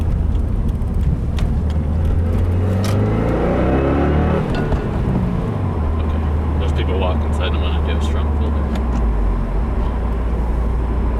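A 2015 Subaru WRX with an E30 tune drops into second gear, its engine dipping and rising in a steady drone with a clear pitch sweep as the revs change, heard close from inside the cabin.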